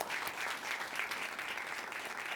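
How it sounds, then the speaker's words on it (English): An audience at a music industry lecture claps in a steady, even wash of applause, fairly soft and distant, with no voices over it. "applause."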